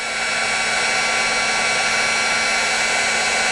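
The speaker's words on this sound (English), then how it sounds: "If I see it moving around too much, I'll raise my heat tool up higher." A heat tool blows a steady, loud, unbroken roar while melting ultra thick embossing powder for masking in a watercolor journal, with no talking.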